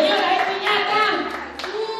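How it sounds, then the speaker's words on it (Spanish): Quick burst of hand clapping from guests at a children's party, short and close, with children's and adults' voices chattering over it. "Señores, un fuerte aplauso para Leonardo."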